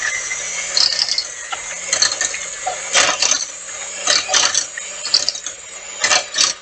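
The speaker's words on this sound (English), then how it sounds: "So I'm going to go ahead and put my mixer in," Electric mixer on low speed mashing potatoes, a continuous high whirring motor hum with repeated bursts of squishing, clattering beater sounds that rise and fall throughout, up close and without talk.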